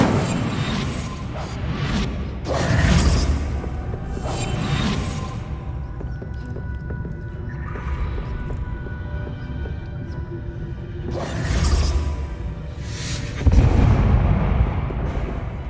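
Incendio fire spells cast in Hogwarts Legacy, a few loud bursting whooshes of flame with deep booming thumps, separated by quieter rumbling ambience.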